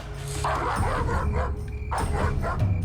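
A guard dog named Dingo, an attack dog at a mansion, barks in loud, close bursts with yips and whimpering, two clusters of barks separated by a short pause.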